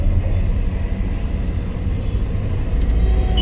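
A car engine pulls steadily in second gear during a driving lesson through a crowded market area, giving a continuous low rumble that holds at an even level and swells slightly toward the end, with no talk.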